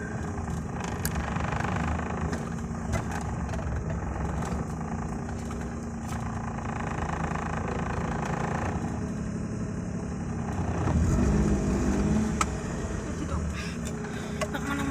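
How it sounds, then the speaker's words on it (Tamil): A car engine runs at low, steady revs as the vehicle is driven into a shed, a continuous close rumble with a slight rise in effort near the end and faint talk over it. "நம்ம ஷெட்டுக்குள்ளே வண்டி ஏற்றிட்டோம்."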